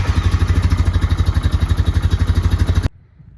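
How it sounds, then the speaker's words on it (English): A Honda Rancher 420 ATV engine runs nearby to warm its oil, a loud rhythmic thumping idle with regular pulses that stops abruptly, leaving near silence. "So I'm going to fire this thing up and let it run for 5 or 10 minutes before I drain it."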